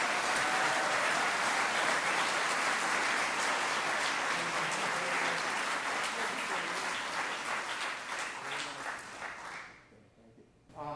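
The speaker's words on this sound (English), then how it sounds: "let's give him a big round of applause, for 50 amazing years of service" A ceremony audience gives sustained, dense applause honoring a staff member's 50 years of service at a university recognition event, loud and even for most of its length before fading out abruptly near the end.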